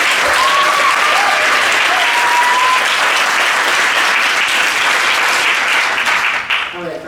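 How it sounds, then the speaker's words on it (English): A packed audience at a state poetry recitation final applauds loudly and steadily for a performer. The strong, even clapping lasts about seven seconds before tapering off. "Let's give another round of applause."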